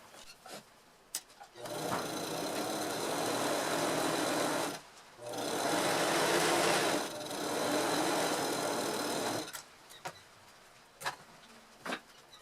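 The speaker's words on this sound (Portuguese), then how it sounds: "Uma costura reta com pé de máquina." A sewing machine runs a straight seam with a presser foot in two sustained, close bursts of rapid whirring stitching, with short pauses and a few clicks between them.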